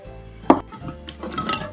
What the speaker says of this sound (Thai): คนให้แป้งข้าวโพดละลายนะคะ